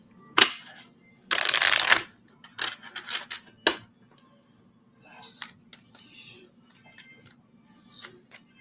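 Tarot cards shuffled in several bursts, a long riffling rush and shorter flicks and taps in a quiet room with a low hum, with faint speech in places.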